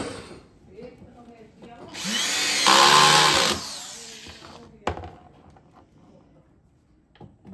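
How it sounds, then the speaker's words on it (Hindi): A small electric drill drives screws into a speaker cabinet for an Audiotone AD 15x410 ES, giving one loud whirring burst of about a second and a half among quieter handling clatter. "इस वाली ड्रिल से करा करो,"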